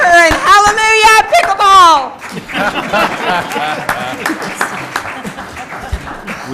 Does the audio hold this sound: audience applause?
yes